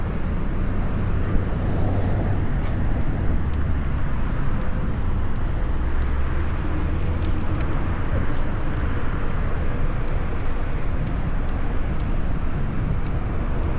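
Steady broadband wind buffeting rumbles loud and unbroken throughout a bike ride filmed on an Insta360 X4, with faint passing car traffic mixed in underneath.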